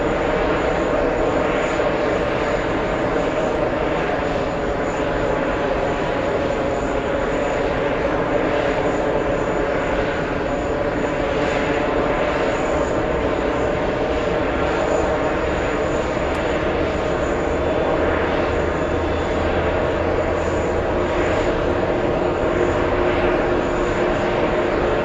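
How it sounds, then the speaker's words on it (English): A JetBlue Airbus A321 XLR jet at JFK produces a sustained, steady engine roar with a tonal whine riding over it, holding a constant close level throughout with no voices. "JetBlue A321 XLR, that one."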